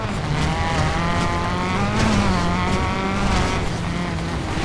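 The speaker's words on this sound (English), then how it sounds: "Nice drifting, buddy." Car drifting in the Driver San Francisco video game on PS3, with a steady, loud engine roar and tire squeal sustained throughout, with no talk.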